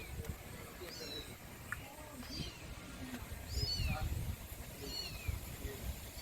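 A kitten mews repeatedly, thin high cries coming every second or so, faint against a constant noisy background and low voices.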